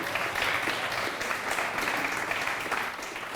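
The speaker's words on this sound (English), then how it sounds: "Clap that up." Audience applause at a business talk event, steady dense clapping for a few seconds before tapering slightly at the end.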